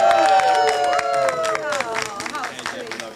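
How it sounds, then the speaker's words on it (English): Wedding guests clap and cheer for the couple during the reception toasts, a dense burst of applause mixed with whoops and crowd chatter that gradually thins out over a few seconds. "Let's give Jeffrey and Gabriela a round of applause."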